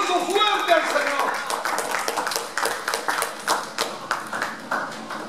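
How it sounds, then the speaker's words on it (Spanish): A church congregation claps rhythmically and strongly in praise, sharp regular hand claps repeating steadily throughout with voices mixed in beneath. "denle un aplauso fuerte al Señor"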